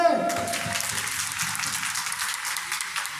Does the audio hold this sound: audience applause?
yes